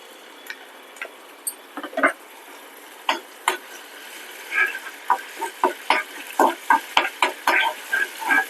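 Ginger paste frying in a pan, heard as faint sizzling with intermittent clicks and taps from stirring, scattered irregularly over a quiet background, with no speech.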